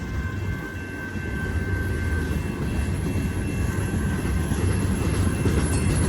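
A Union Pacific freight train hauling covered coil cars rolls past on the Palmdale Cutoff, a steady, loud rumble with rail noise and a faint high squeal, with no voices.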